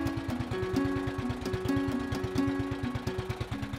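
A small motorboat engine on a lake putters steadily with a rapid, regular knocking rhythm and a droning tone, close by and continuous.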